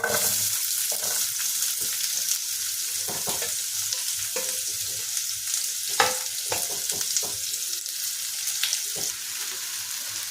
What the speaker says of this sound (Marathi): आता हे झालं की आपण ह्याच्यात टाकूयात हे 2 मोठे चिरलेले कांदे आहेत.